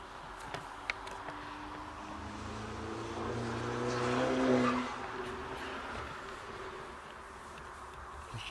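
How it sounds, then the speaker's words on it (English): Traffic passing outside a priory, a car swelling and fading at a distance in a quiet interior, with a few small knocks nearby. "Noisy cars."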